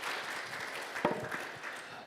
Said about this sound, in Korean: 이태혜 교수님을 큰 박수로 맞이해주시면 대단히 감사하겠습니다